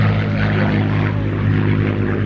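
Vintage Spitfire fighter with black and white D-Day invasion stripes roaring past right to left during a live air show; a steady, loud, droning propeller engine fills the whole stretch.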